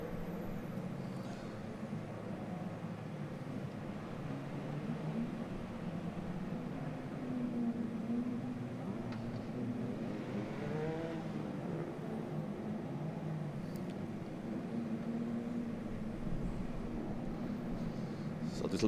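Race cars at the ICCR 2023 Round 5 Sunday meeting rolling down to the grid, a steady low engine drone held at some distance, with faint voices underneath.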